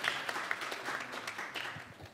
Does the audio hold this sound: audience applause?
yes